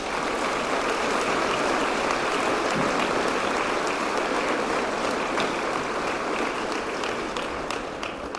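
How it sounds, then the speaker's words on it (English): Sustained applause from an audience at a middle school 8th grade recognition ceremony, steady and dense clapping filling the room for the whole stretch without a break. "Please have a round of applause for Hannah Morelli."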